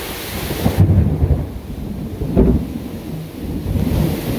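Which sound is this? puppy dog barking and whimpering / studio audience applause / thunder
thunder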